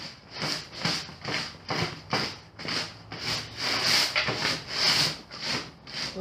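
Rhythmic rubbing strokes wiping sand and dirt off a wooden watering can stand, roughly two brisk scrubbing passes per second, close and steady throughout with no voices.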